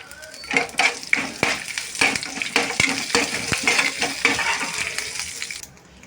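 A tempering of mustard seeds, urad dal, chana dal, dried red chili and curry leaves fries in hot oil, giving a steady crackling sizzle with sharp pops and stirring clinks of a spoon against the pan.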